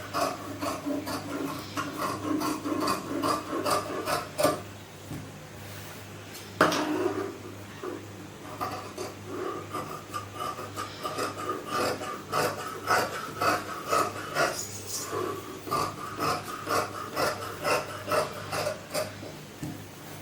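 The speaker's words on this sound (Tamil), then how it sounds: "இப்போ நம்ம வந்து இந்த ஸ்லீவ் வந்து கட் பண்ணிக்கலாம்." Scissors cut cloth for a churidar sleeve in quick, repeated snips and crisp clicks, close and steady, with a soft rustle of fabric between the cuts and a brief handling knock partway through.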